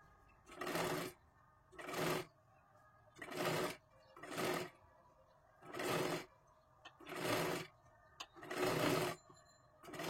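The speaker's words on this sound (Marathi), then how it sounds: "पूर्ण राऊंड मध्ये आपल्याला ही शिलाई मारून घ्यायची आहे" Sewing machine stitching a round seam on a katori blouse, running in eight short bursts of about half a second each with brief pauses between, close and clear with no talk.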